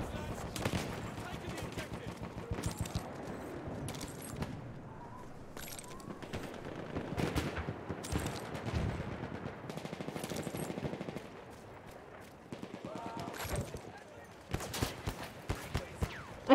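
Battlefield 1 gunfire sounds as repeated sharp shots and rapid bursts across a busy battlefield. Game voices and other effects are mixed in throughout.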